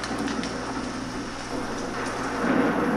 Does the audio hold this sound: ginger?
no